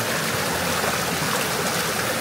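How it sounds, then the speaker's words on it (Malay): A forest stream flows steadily and loudly on a mountain hike in Malaysia, a continuous close rush of water with no voices. "Tapi make sure kena ambil dekat tempat air yang mengalir"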